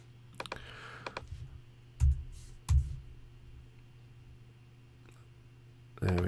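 Keys on a computer keyboard being typed in short bursts of clicks, with a few louder thumps, fairly close and otherwise quiet.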